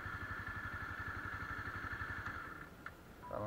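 A Honda CBR250R motorcycle idles with a steady, even low pulsing thrum and a sustained whine, then the engine cuts off near the end, leaving a quieter background with a small click.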